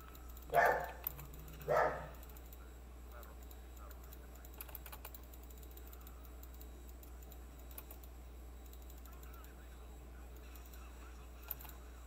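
A dog gives two short barks about a second apart near the start, then the room falls quiet apart from soft computer keyboard typing clicks.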